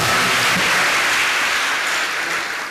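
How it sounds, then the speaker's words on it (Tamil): Loud, dense applause from a church congregation, a steady roar of many clapping hands that fills the whole stretch and eases off slightly at the end, with no talking over it. "சத்தமான கைதட்டு."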